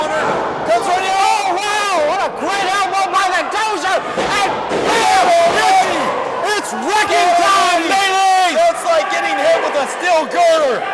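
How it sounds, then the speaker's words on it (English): A wrestling arena crowd roars and cheers for a big wrestler during a tag match, a dense, loud wall of shouting and chanting voices with rising yells, running continuously and mixed with excited calls. "The Muppets are cheering for the big man."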